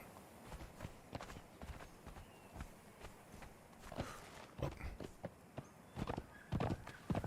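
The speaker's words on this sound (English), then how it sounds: "Horses in Conan are great climbers." A horse's hooves clip-clop in the video game Conan Exiles, a run of sharp, close thuds at an irregular walking rhythm that grows louder and denser toward the end.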